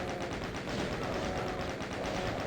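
Rapid machine-gun fire from the video game Doom 2 rattles in a steady, evenly spaced stream of shots that continues without a break.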